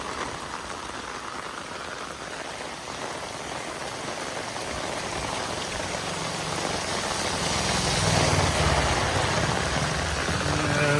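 Heavy monsoon downpour of the Sawan season in Punjab, a dense continuous hiss of rain on surfaces that swells louder toward the end, with no voices.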